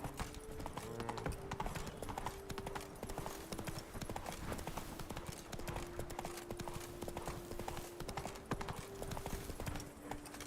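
Horse hooves gallop in a steady, rapid clip-clop throughout The Witcher 3, loud and continuous, with a sustained musical drone beneath and occasional brief voice.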